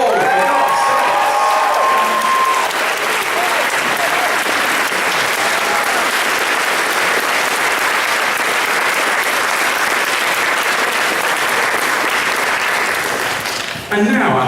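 A large audience at an anime convention closing ceremony (Amecon 2012) breaks into loud, sustained applause with some cheering, filling the hall for about fourteen seconds before fading at the end.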